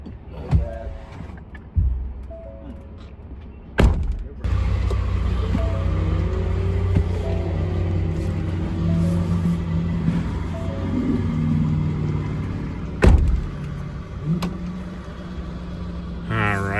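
A car's idling engine, left running, gives a steady low rumble that continues under nearby talk, with a few sharp knocks and clicks at the start.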